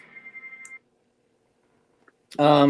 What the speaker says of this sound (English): Sorry, my phone's going off.